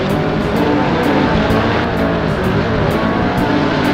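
Cars drive in a Roblox video game, a loud, steady engine roar with no break and no voices over it.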